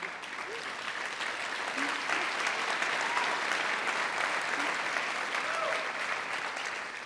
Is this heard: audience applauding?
yes